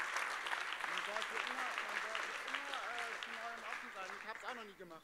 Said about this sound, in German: Ihr seid mutig, Applaus für euch.